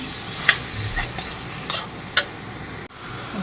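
Chilli chicken with soy sauce, chilli sauce and tomato ketchup stirred in a pan, a soft low sizzle with a few sharp spoon-scrape clicks close by.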